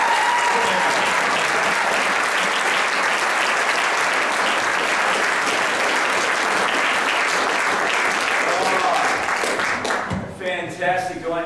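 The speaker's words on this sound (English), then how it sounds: "I want you to give Wes a great big round of applause as he comes up here to speak for us" An audience gives sustained, loud applause as guest speaker Wes Beavis comes up, steady clapping that tapers off near the end.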